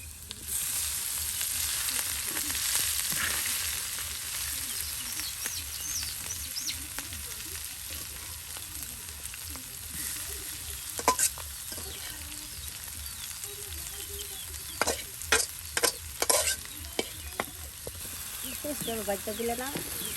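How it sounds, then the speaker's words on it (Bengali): Onions and bottle-gourd greens frying in a pan on a village kitchen stove give a continuous close sizzle, broken later by sharp clattering strokes as the spatula stirs, with a voice heard faintly at times. "একদম মসমসে শাক ভাজা"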